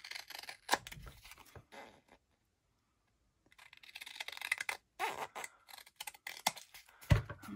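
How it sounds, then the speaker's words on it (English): Scissors snip through paper in short crisp bursts, a pause of silence in the middle, then more rapid close cutting. "what we're doing here, we're trimming with the scissors"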